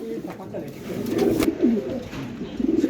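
Racing pigeons coo repeatedly at close range in a loft, soft rolling calls running through the whole stretch, with a person talking faintly in the background.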